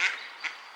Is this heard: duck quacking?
yes